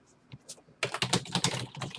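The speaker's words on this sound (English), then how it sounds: "I'm just going to go ahead and type in Apache Airflow" A computer keyboard clatters in a quick run of close keystrokes after a short, near-silent start, with a few faint taps before the burst.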